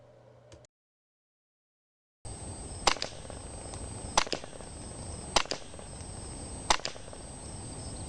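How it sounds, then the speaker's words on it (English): Shots from a low-caliber suppressed weapon: after a short silence come four or five sharp, dry cracks at irregular intervals, spaced a second or more apart, over a constant high insect-like hiss. "Fired from a low-caliber suppressed weapon, the shots would have sounded something like this"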